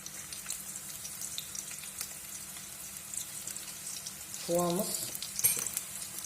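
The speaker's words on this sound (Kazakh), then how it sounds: "Жуамызды қызартып қуырамыз." Chopped onions frying in oil in a pan, a soft steady sizzle with faint stirring, fairly quiet, with a brief clatter near the end and no talking.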